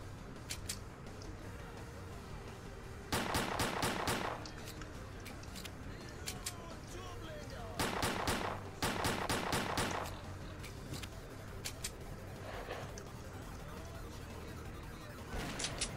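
Gunfire in the shooter game Stalker Clear Sky: several short bursts of automatic fire at intervals over a steady low background, some close and loud, others fainter and more distant.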